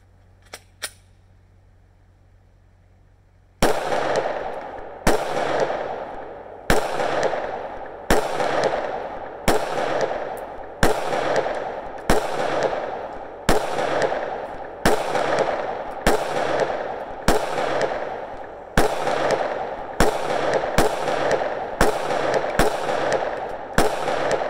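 Regularly spaced 9mm pistol shots from a Glock fitted with a Bear Creek Arsenal conversion barrel, firing 125 grain truncated cone rounds; about fifteen loud, sharp reports at a steady pace after a brief quiet start, each with a short ringing echo.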